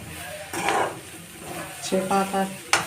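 Chapati noodles are tossed with chaat masala and a pinch of sugar, bringing intermittent scraping and clinking of a utensil on a pan or bowl, with short tonal clatters and one sharp knock near the end.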